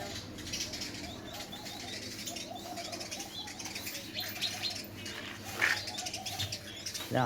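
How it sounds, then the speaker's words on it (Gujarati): Sparrows chirp in an outdoor spot near trees, a busy scatter of small tweets over soft background noise, with a brief flurry of wing flapping near the end. "આમાં ચકલીઓ બાજે."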